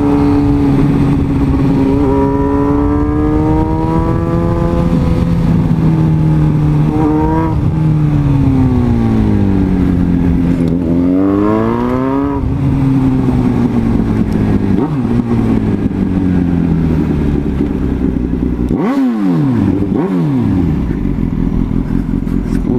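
A Suzuki B-King motorcycle engine revs repeatedly, pitch climbing and falling in loud surges, with a couple of sharp throttle blips near the end.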